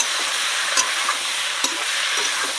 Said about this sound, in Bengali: তো এইবারে আমি টমেটোগুলো দিয়ে দিলাম। টমেটোটা দেওয়ার পরে নেড়ে নেব।